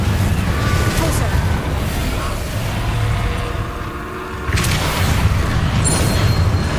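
Repulsor spell blast in the video game Hogwarts Legacy: loud, booming broadband whooshing that dips briefly, then surges back with a fresh forceful burst near the end, over continuous game rumble.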